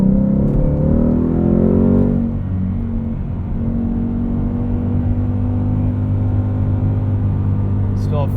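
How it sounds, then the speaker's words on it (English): A 2020 Ford Mustang GT convertible with Performance Pack and six-speed manual revs hard, then the engine note drops as the gear changes and settles into a loud, steady drone, heard from inside the car. "This thing revs so high, you can hear the synchros kind of struggling at redline to shift into the next gear."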